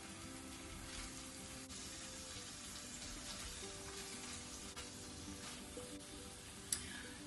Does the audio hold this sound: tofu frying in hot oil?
yes